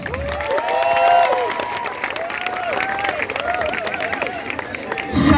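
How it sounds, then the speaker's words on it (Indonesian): A crowd of workers at a labour protest rally over low wages in Brebes claps and cheers, a steady wash of applause under echoing loudspeaker feedback tones. "Aplaus buat kawan-kawan semua"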